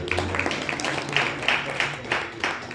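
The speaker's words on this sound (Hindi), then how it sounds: "एक बार ताली बजा के सबका" A congregation at an Arya Samaj temple claps during a Gita discourse, producing a steady mid-level patter of hand claps with a faint hum and murmur underneath.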